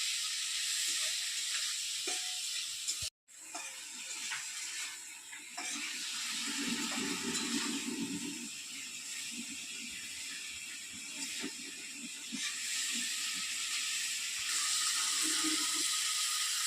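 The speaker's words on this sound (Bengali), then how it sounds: "হালকা করে একটু ভেজে নেবো তারপর মাছগুলো তুলে নেবো" Fish fries lightly in a pan over a fire fed with coconut shells, giving a steady, close hiss and sizzle that runs throughout, broken by one brief sharp dropout near the start, with no voices.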